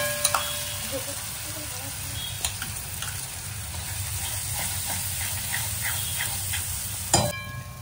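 Onion and dried coconut frying in oil in a pan, a steady close sizzle and hiss with a few soft stirring clicks and a louder knock near the end.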